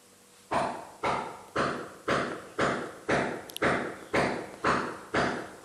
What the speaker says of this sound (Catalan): el veí està fent obres